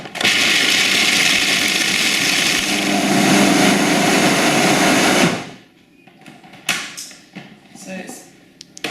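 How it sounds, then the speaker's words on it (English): A food processor grinds two cups of almonds with a tablespoon of chia seeds in a loud steady whirring roar for about five seconds, then cuts off abruptly, followed by quieter handling sounds. "2 cups of almonds that are going to go into my processor, together with a tablespoon of chia seeds, and I'm going to process those down"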